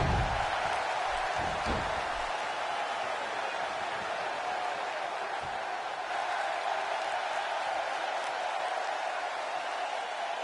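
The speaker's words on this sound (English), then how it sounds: "by the sound of this crowd, I think they're getting what they wanted" A large crowd roars and cheers continuously in a big wrestling arena in the video game WWE 2K16, a steady wash of noise with scattered shouts and some clapping.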